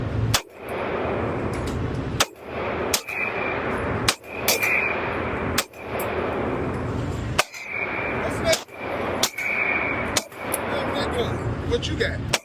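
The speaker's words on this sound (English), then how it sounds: "shooting the Glock 43X" Handgun shots from a Glock 43X ring out at a gun range, about nine sharp loud cracks spaced a second or two apart over low background voices and range noise.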